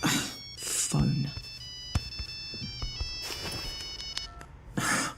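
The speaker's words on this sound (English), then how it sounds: "Phone." A phone rings with a bright electronic ringtone of steady tones lasting several seconds, mixed with other sounds and voices speaking around it.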